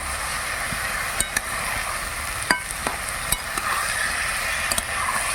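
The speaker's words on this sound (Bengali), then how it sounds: "দিয়ে দিচ্ছি এবার ভেজে রাখা চিংড়ি ভালো করে এবার কষে নেব" Fried prawns sautéed in a pan over a wood-fired clay stove with ginger-cumin paste: a steady loud sizzle with occasional sharp clicks of a spatula against the pan, close and without speech.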